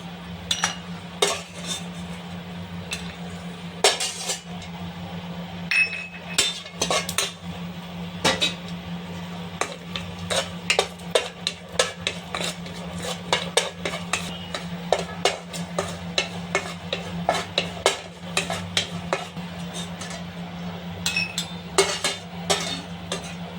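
Rava roasting in a pan for sweet laddu is stirred continuously, with frequent close metallic clinks and scrapes of the utensil against the pan over a low steady hum.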